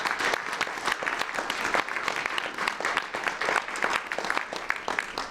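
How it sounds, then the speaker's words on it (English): A live audience at a Women in Government fireside chat claps steadily throughout, a dense, even patter of many hands that stays loud from start to finish. "I think we need a round of applause for that."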